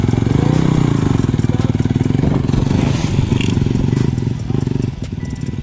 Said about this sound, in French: je mets un petit filet de gaz pour la faire partir en premier